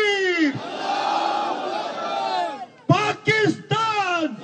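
A large crowd roars a slogan in unison in response to a leader, first one long sustained bellowing shout, then three shorter chanted bursts, loud and close.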